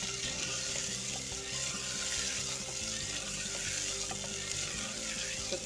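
Tomatoes cooking in a pan for tinda (Indian round gourd) curry give a dense, continuous sizzle with soft stirring, steady and close throughout, with no one speaking.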